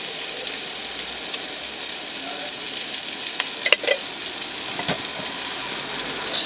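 Peas and potatoes frying in a pan, with a constant loud sizzling hiss throughout and a few brief scraping and clinking stirs in the middle.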